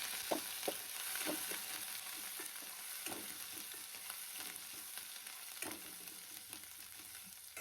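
Garlic sizzling in hot oil in a pan after the gas has been switched off: a steady, close crackle and hiss, with occasional louder pops and stirring scrapes throughout.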